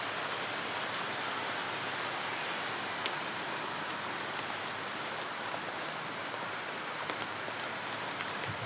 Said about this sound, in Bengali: 3:45 নাগাদ এই যে বৃষ্টি শুরু হয়েছে।